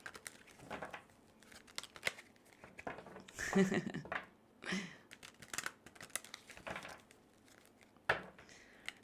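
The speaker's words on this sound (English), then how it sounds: "Give this deck a little shuffle here." Quick papery riffles and soft crinkly bursts as a deck of cards is shuffled close by, mixed with a voice talking intermittently.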